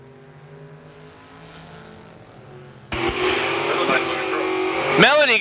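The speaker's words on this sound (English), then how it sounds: "going up against Joe Henry out of West Virginia in that 83 Henry Brothers Camaro" A drag race launch from a 1983 Henry Brothers Camaro: a low engine drone gives way to a sudden loud full-throttle roar at about three seconds, rising in pitch as the car accelerates away, with a second engine sweep near the end.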